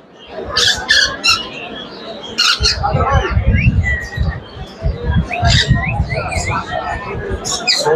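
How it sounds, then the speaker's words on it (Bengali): Harsh squawks and chirps of yellow parakeets repeat at an exotic bird show, over a busy background with people talking close by and a steady low rumble. "এখানে অনেক সুন্দর সুন্দর পাখি টিয়া হলুদ টিয়া"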